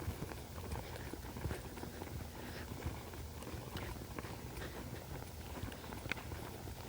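A frisky mare walks under a rider, her hooves clopping in a faint, steady, uneven rhythm over continuous low outdoor noise.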